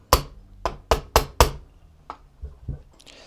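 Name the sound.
hammering a pin into an AR-15 receiver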